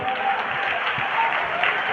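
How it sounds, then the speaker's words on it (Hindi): Audience applause at a poetry festival, a brief burst of steady, fairly dense clapping from a crowd, moderately loud and continuous throughout. "इसलिए एक बार जोरदार तालियां बजा दो"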